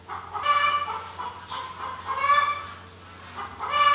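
A hen clucks in a series of loud, close, throaty calls that rise and fall in short bursts, alone without any talking.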